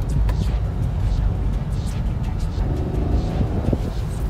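A 2021 Hyundai Venue SX iMT with clutchless manual gearbox accelerates in second gear, its continuous low engine and road drone filling the cabin while a voice speaks briefly over it.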